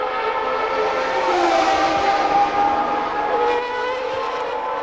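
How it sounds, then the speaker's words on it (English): A Formula 1 car passes at Monza during the 1990 Italian Grand Prix with Alain Prost driving, heading under a bridge toward a chicane. A continuous high engine whine holds steady and fairly loud throughout. "then the track dives down under that bridge and then into the chicane. Here comes Alan Prost."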